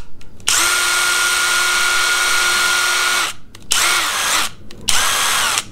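Two impact drivers, a Craftsman CMCF820 and a Skil ID573901, run on high in turn, giving a loud, steady motor whine for about three seconds, then shorter bursts separated by brief pauses.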